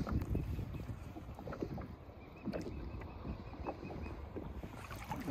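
A Wilderness Systems Tarpon 140 kayak moving on water off Matlacha, Florida, with steady splashing and lapping against the hull under gusty wind noise on the microphone, close and continuous with no talk.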